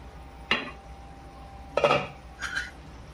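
A lid comes off a pot of simmering mushroom masala on low heat, giving three short metallic clanks and scrapes spaced about a second apart, close and fairly quiet.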